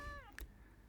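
A pet cat gives a single short meow, close and fairly quiet, followed by a faint soft chirp and then near silence indoors.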